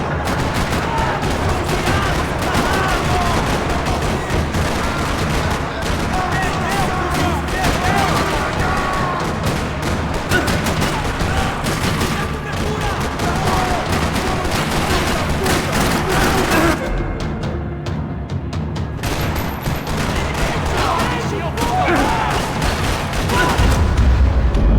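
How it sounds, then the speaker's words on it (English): Dense gunfire rattles through a parking lot in Max Payne 3, with rapid automatic bursts and heavy booming shots sounding loud and continuous, a brief lull near the end, and voices speaking intermittently beneath the shooting. "Another parking lot rattling with gunfire."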